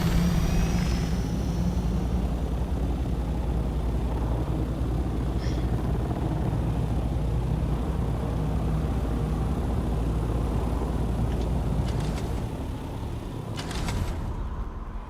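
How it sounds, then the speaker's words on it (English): House Atreides-style ornithopter flying in a Dune video game, a steady low droning engine and rotor rumble lasting the whole stretch, with a few brief sharper clicks near the end. "See, I went for the variant that looks like the House Atreides Thopter."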